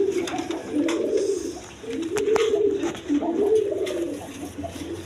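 Several pigeons coo in low, rolling, repeated calls close by, overlapping each other with faint background rustles.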